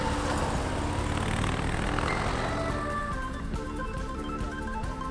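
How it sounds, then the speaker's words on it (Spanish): Harley-Davidson Softail Fat Bob 114 V-twin motorcycle engine, a dense, loud rumbling drone that holds steady, then eases slightly as it settles into a lower throb. "El sonido es también una de las características más apreciadas de este tipo de motos"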